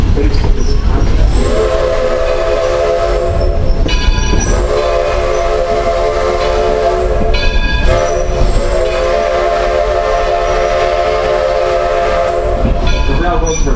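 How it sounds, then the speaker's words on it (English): Historic passenger train at Greenfield Village running steadily throughout, with rhythmic rumbling and clatter and repeated loud whistle or horn blasts standing out above the steady mechanical noise. "We're bringing the train to a stop here."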